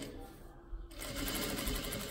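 A sewing machine stitches along the waistband of a wrap skirt, a quiet pause giving way to a close, steady, rapid mechanical whir that runs to the end.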